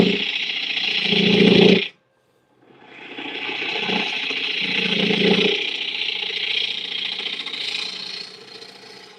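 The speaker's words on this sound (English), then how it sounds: "that chattering is kind of where I'm hitting just some rough spots of the end grain" A woodworking tool chatters harshly against rough end grain of wood in a loud continuous grinding buzz, breaking off briefly into silence before resuming steadily.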